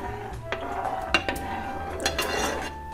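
Flax seeds being stirred into water in a pot on a stove, with spoon clinks and scrapes against the pot at irregular moments over a steady low background hum.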